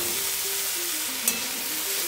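Steady broadband sizzle from steamed banana flower being mixed into rice in a pan, with a single faint stirring knock midway and a low tonal hum underneath.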